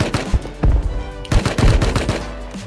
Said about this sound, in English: He's trying to shoot at us.